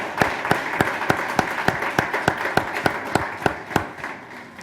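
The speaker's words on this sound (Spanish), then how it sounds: "El aplauso es para nuestro Dios y Padre" A church congregation claps in a steady, even rhythm, sharp hand claps landing at regular intervals over a broad wash of crowd noise, moderately loud and close throughout.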